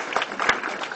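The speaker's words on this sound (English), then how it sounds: "can we have another round of applause?" Brief round of audience applause at a talk, a dense patter of clapping filling the room for about a second.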